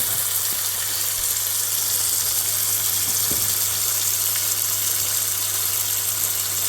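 Chicken breast and dates sizzle in butter and olive oil in a pan, giving a steady, close frying hiss with a few soft pops throughout.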